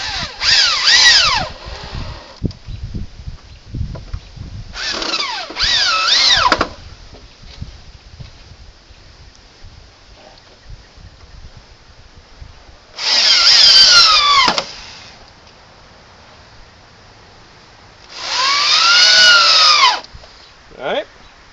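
A power drill drives screws into a wooden box in several whirring bursts of one to two seconds, its pitch dropping as each screw seats, with quieter handling noises between.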